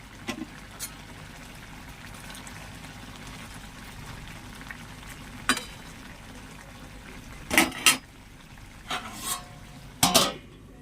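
Fried small mola fish go into a simmering potato and eggplant curry in a pan, heard as a low steady bubbling under a few sharp clinks and scrapes of a spoon against the pan.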